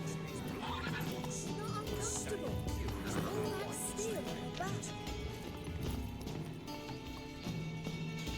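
Roach the horse gallops in The Witcher 3, hooves clip-clopping steadily while the horse neighs and whinnies, with a voice talking over the ride.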